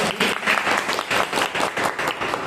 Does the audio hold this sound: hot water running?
no